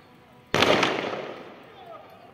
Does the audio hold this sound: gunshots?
yes